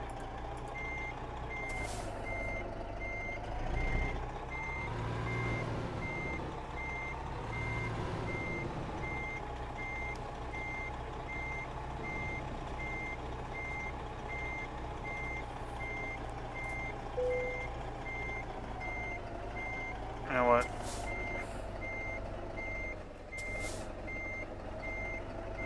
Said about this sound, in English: Truck don't sound bad though.